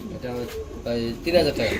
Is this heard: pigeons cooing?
yes